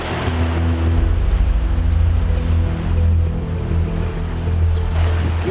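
Sea waves at Jangho harbour beach after a typhoon: a loud, continuous roar of surf with a heavy low rumble and gusting wind noise, rolling in slow surges close by, with no voices.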